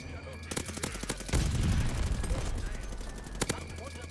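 A light machine gun in Call of Duty Vanguard on the Radar map fires in rapid repeated shots, a dense rattle with a sustained rumbling burst in the middle, heard up close.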